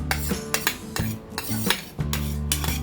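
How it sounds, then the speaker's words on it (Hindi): A spoon clanks against a steel bowl while Punugulu batter is mixed with chopped onion and coriander, giving repeated metallic scrapes and knocks in a steady stirring rhythm, close and clear, with no voices. "मिक्स कर लेंगे। हमारा ये बैटर तैयार है।"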